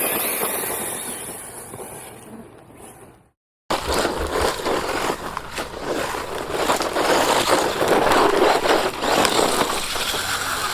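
A WLToys 124018 RC car fitted with larger 1/10 wheels drives with a buzzing electric motor and rattling wheels, briefly cutting out before resuming loudly and steadily.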